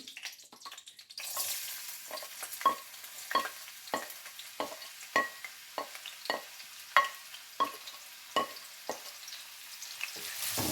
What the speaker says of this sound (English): So I'll be adding my onions now into the oil.